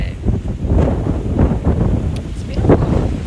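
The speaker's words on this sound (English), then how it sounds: "This wind is crazy." Strong wind gusts roar and buffet the microphone on a mountainside at night, a steady low rumble with rustling surges and no clear speech.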